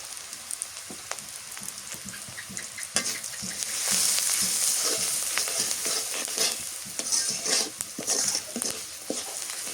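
Ground spices with turmeric are sautéed for a village-style fish curry, a dense crackling sizzle with frequent stirring scrapes that swells louder midway, close and continuous without speech.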